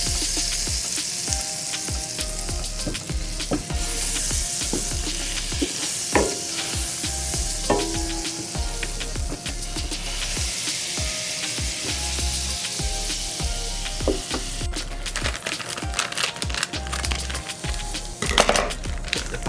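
Butter melts on low heat in a pan, giving a steady close sizzle throughout, with occasional stirring scrapes and light wooden clacks and no talk.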